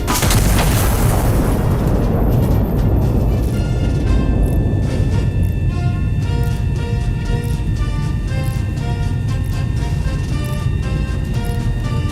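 Heavy artillery gun firing in the video game Iron Nest: a loud booming blast that opens the clip and rolls into a long rumbling decay, with steady low roar and faint tonal game sounds beneath.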